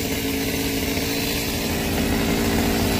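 A chainsaw runs steadily at high revs while cutting branches from a tall tree, a loud, continuous close-up engine drone with no voices over it.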